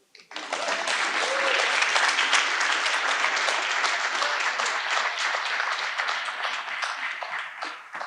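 An audience at a Boston University alumni weekend event claps steadily for about eight seconds, with the applause swelling quickly near the start and holding loud and full before tapering slightly at the end.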